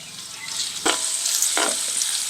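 Crushed garlic fries in hot oil in a pan with a bright, steady close sizzle, broken by two brief scraping stirs.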